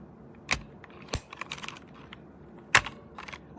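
Keycaps being pried off a DIERYA T68SE mechanical keyboard with a keycap puller, making a few sharp, close plastic clicks and snaps at irregular intervals, with small rattles in between.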